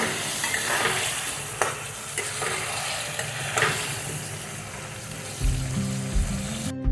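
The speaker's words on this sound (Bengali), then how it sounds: "আবারও আমি একটু নাড়ি চাড়িয়ে নেব" Potato curry masala with winter new potatoes and a splash of hot water fries and sizzles in a pan while a spoon stirs it, giving scraping strokes over steady crackle and a heavier bubbling rumble near the end.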